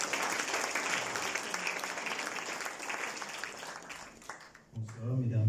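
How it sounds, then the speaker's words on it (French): Dense, sustained audience applause fills a room at the Mauritius launch of an author's book 'Comme on dit', then fades out as a voice begins speaking over a microphone. "Sur vos applaudissements, merci."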